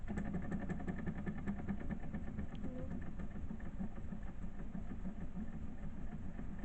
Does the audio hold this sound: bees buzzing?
no